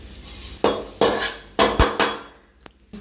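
Roasted moringa leaves are moved into another pot with a metal utensil, giving several sharp scraping and clanking strikes against the vessel in an irregular rhythm, close and fairly loud, with no voices.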